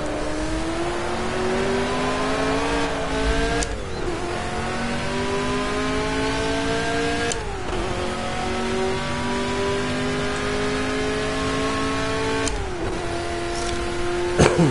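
Engine of a Ford Mk IV race car in Project CARS, a loud, steady racing drone climbing in pitch through the gears, with three sharp shift breaks where revs drop and rise again, close and continuous with no talking.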